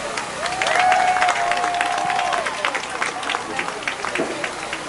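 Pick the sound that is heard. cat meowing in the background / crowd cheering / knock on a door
crowd cheering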